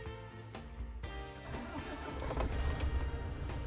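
A car engine cranking and catching in the freezing cold of Ladakh, a whirring starter followed by the motor rumbling into a rising idle, close and fairly loud.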